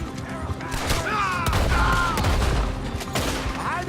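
Red Dead Redemption 2 gunfight with a dense barrage of gunshots, overlapping cracks and booms over rumbling action, with characters shouting in between.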